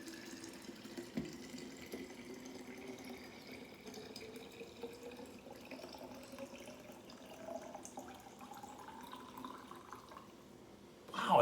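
Chicken stock is poured into a bottle with a pouring spout, a quiet, continuous trickle whose pitch slowly rises as the bottle fills, ending with a louder splash.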